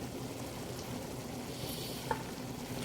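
Cabbage cooking in a pan with rice noodles, a soft steady sizzle and bubbling with one brief utensil clink, faint and unbroken.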